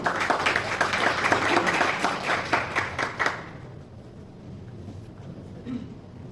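An audience at a prize-giving ceremony claps loudly and densely for about three seconds, then the applause drops away abruptly, leaving only faint room noise.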